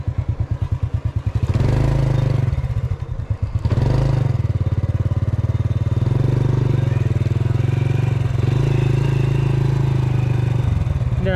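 A motorcycle rides off-road along a rural trail near Sitio Bato, Norzagaray, Bulacan, in the Philippines, its engine chugging steadily and loudly up close with brief clattering dips, no voices.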